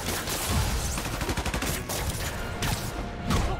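Enemies in the video game Marvel's Spider-Man Remastered open fire together, a loud fusillade of rapid overlapping gunshots with bursts that swell and fade across the clip.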